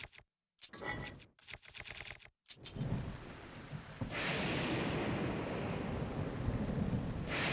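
Heavy rain and rumbling thunder from a storm in the video game The Legend of Zelda: Breath of the Wild, opening with sharp crackling bursts and gaps, then settling into a steady, loud wash of rainfall.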